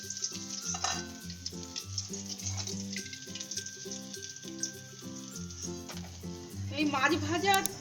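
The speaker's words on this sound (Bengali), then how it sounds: "মাছগুলো ভাজা হয়ে গেল লাল লাল করে, এবার নামিয়ে নিচ্ছি।" Pieces of katla fish fry in hot oil with a steady, close sizzle that runs the whole time under louder background music with a clear melody.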